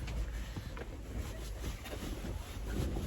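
Steady, gusty cold wind roars across the microphone outdoors in Iceland, a broad continuous rush with no voices.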